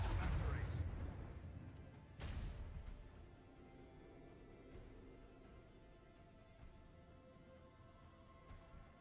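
Dorsal ship weapons in the Rogue Trader game fire as two heavy booming blasts near the start, then fade into a long low rumble with faint, scattered distant pops.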